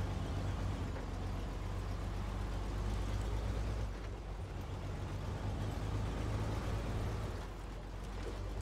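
A fully upgraded off-road truck with an off-road gearbox drives in SnowRunner, its engine droning steadily with a low rumbling hum that dips briefly a couple of times, alone without talk.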